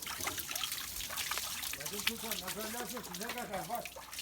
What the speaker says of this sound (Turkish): Yaylalarda su soğuk akar.